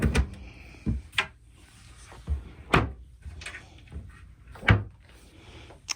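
Drawers opening and closing in a home sewing and quilting studio, several short thumps and slides spaced through the clip, fairly close and clear with no talk.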